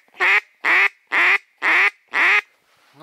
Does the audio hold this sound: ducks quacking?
yes